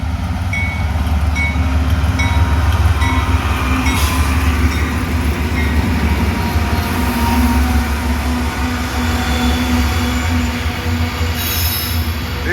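A grain freight train hauled by three locomotives rolls past at close range, wheels squealing and cars rumbling continuously and loudly throughout, with no talk.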